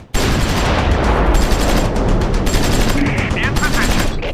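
Rapid machine gun bursts crackle nonstop in a Close Combat 4 Battle of the Bulge skirmish near Assenois, loud and dense, with scattered sharper reports layered over the continuous fire.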